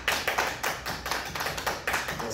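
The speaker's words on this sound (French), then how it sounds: "Par applaudissement dans la salle" Audience applauding in a hall during an awards ceremony, a run of uneven clap bursts filling the room for a couple of seconds.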